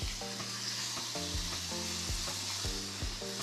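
Asparagus sizzles and fries steadily on a camping stove griddle, a dense close crackle with recurring scraping and clinking as the spears are stirred and moved.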